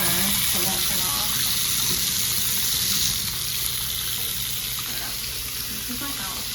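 Water pours steadily from a campsite tap stuck on, a close, continuous rushing stream that eases slightly partway through, with faint background sounds beneath.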